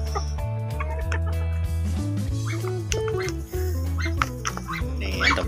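Farm chickens cluck and squawk steadily while feeding, close and loud, with a rooster's harmonic calls layered over the flock.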